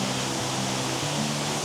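Steady broadband rush of a waterfall near its source on a day trip to Mae Kampong, Chiang Mai, continuous and fairly loud with a low hum underneath and no voices.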